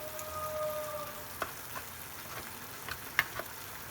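Tomatoes, spices and chana dal frying in a pan with a low, steady sizzle, broken by a few soft clicks and taps of a stirring spoon against the cookware.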